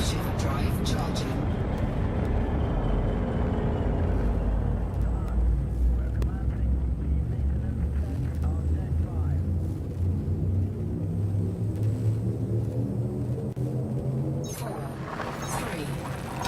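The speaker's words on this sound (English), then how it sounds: "And now I can jump. Frameshift drive charging." In Elite Dangerous, a Python ship's frameshift drive charges with a deep rising rumble. A tonal hum swells and climbs in pitch, then cuts off near the end with a sharp burst. Speech runs over part of it.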